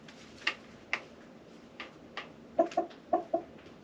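Pet backyard hens cluck in short, spaced bursts, single at first and then in quick pairs, at moderate distance with no talking.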